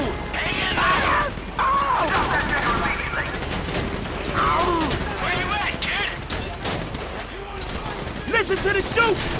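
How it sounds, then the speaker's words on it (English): Gunfire during a bank robbery shootout in GTA 5, repeated bursts of shots and clattering impacts under loud shouted talk, with several sharp volleys spread across the scene. "You hear that gunfire?"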